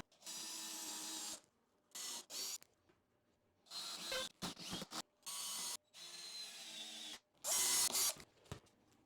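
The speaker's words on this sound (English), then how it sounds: "I'm going to pre-drill these." A power drill whirs in several short bursts, starting and stopping with brief pauses, close and fairly loud, as it pre-drills into an oak hardwood floor.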